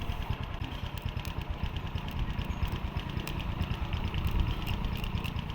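A motorcycle engine idles steadily and close by, a continuous low rumble with a rough, even pulse and no talk over it.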